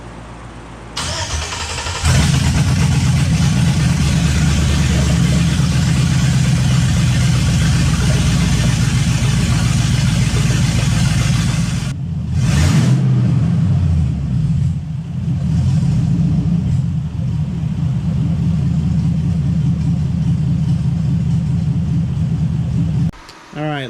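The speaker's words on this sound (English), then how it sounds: "Suppose I could fire this thing up though and show you guys how it sounds." A Chevrolet C10 truck engine cranks, catches and settles into a loud, steady idle with a deep rumble, heard up close, with a brief blip partway through.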